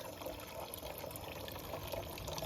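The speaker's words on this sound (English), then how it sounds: "my little water fountain down there" A small garden water fountain trickles steadily outdoors, a soft, continuous, faint splashing with no voices.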